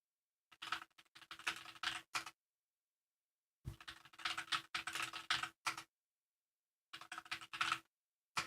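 Notes are typed on a computer keyboard in three quick bursts of rapid key clicks, separated by short silent pauses, close and fairly quiet.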